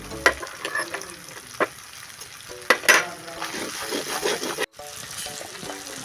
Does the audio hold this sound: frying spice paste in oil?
yes